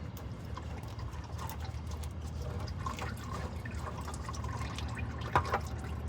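Oil drains from a truck transmission pan just pulled off, a steady near trickle with scattered drips over a low background hum, no talking.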